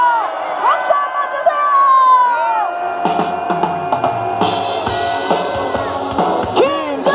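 A lively crowd at an outdoor rally at Daejeon Station Plaza cheers and whoops, with shouting voices and clapping building over a sustained roar of excited people close by.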